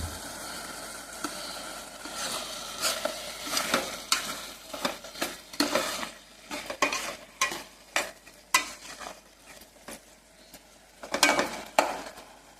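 Carrot halwa stirred in a pan with dry fruits added, a steady run of scraping spoon strokes against the metal over a soft sizzle, close and fairly quiet, with no voices.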